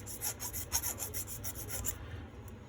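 Blade shaving back black plastic on a small mini lever switch, a short run of quick rhythmic scraping strokes close up, about eight rasps in two seconds before stopping.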